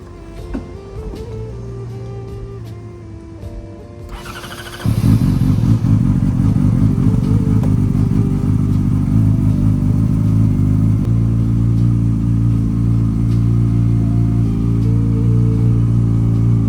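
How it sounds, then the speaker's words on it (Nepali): A Yamaha R6 superbike engine idles low and steady, then fires up hard around the midpoint into a loud, close, sustained revving roar that holds for the rest of the clip. "बाइक स्टार्ट गर्दै होइन"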